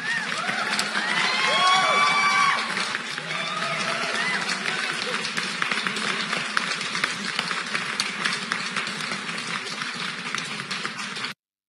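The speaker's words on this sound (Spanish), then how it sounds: "Un aplauso para ella." An audience at a talk on social impact bursts into applause and cheering for a speaker being introduced, with whoops and shouts strongest at the start, then settling into steady clapping that runs on for several seconds before cutting off.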